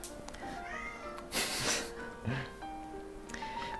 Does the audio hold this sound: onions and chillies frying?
no